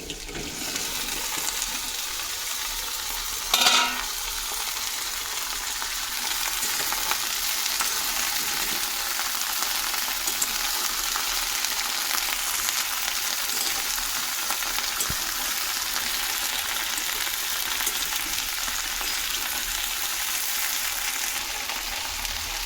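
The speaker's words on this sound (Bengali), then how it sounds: "ঢ্যাঁড়সটাও দিয়ে দিচ্ছি, যাতে একসাথে ভালো করে ভাজা ভাজা হয়ে যায়।" Chopped okra fries in a pan with a continuous dense hiss and crackle, close and fairly loud, with one brief sharp clatter early on and no talking.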